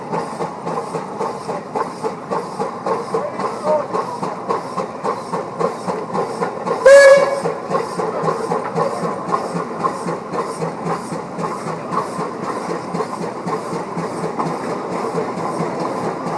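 An old engine in a parade at a steam threshing show chugs with a steady, fast rhythmic beat, loud and close, with a brief hiss or squeal about midway.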